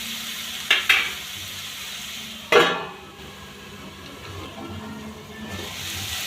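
Garlic fries in a pan for a spicy Marathi garlic fry after a splash of water, a soft, continuous sizzle running beneath a few sharp clinks of a utensil against the pan.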